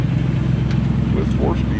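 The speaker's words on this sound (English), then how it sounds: "'63 409 Impala" A 1963 Chevrolet Impala 409 with a four-speed runs at a car show, its engine rumbling steadily and loudly nearby while people talk over it.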